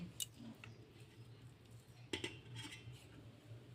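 A spoon scoops hot peanut mixture for naru with soft metallic clinks and scrapes against a pan. The sounds are faint and intermittent over a low background hum, with no one speaking.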